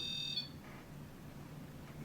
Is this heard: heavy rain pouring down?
no